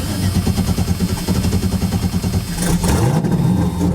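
Twin-turbo street car engine cold starting and running roughly at close range, a loud continuous mechanical chug with a rising rev near the end.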